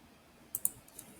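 A few sharp, faint clicks from a computer mouse selecting a spreadsheet cell in Excel: two close clicks, then a couple of softer taps, all in a quiet room with no talking.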